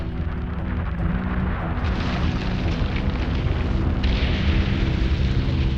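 A U.S. Vanguard rocket carrying a satellite fails on its launch attempt in the 1950s, giving a loud, continuous roaring rumble with a burst of explosive force that holds steady throughout, with no voices.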